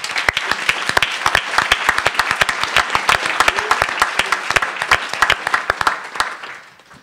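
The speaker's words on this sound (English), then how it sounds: "So would you please give all these people a round of applause" An audience at a talk on social entrepreneurship breaks into a dense, sustained round of applause with many overlapping claps, tapering off at the end.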